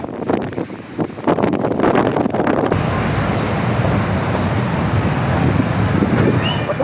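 High waves surging onto Batu Hiu beach in Pangandaran, a steady roar of surf with strong wind buffeting the microphone, louder and more broken early on before settling into a continuous wash.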